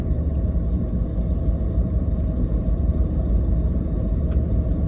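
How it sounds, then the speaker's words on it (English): Steady heavy engine rumble of a truck close behind a car, a low continuous drone with no talk and no clear change in pitch. "This damn truck pulled behind me"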